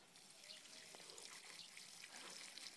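Water poured generously onto freshly planted aronia shrubs, a steady broad rush of flowing water throughout, fairly faint and continuous with no pauses.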